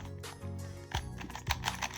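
A QiYi MS 2x2 speed cube, freshly cleaned with its lube removed, is turned in quick bursts, making dry plastic clicks and scrapes. A few sharper turns stand out, and the sound is close and fairly quiet.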